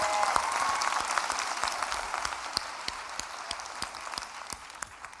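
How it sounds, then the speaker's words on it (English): A moderate round of audience applause, scattered individual claps standing out over a softer crowd wash that slowly thins toward the end. "let's give a round of applause to God."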